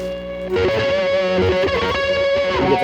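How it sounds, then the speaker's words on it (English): An electric guitar plays through a rat-clone distortion pedal combined with a fuzz pedal, heavy fuzzy distortion, thick and saturated, starting after a short quiet moment and sustaining loudly to the end. "normal distortion sound, but then I can add all those elements of a fuzz sound"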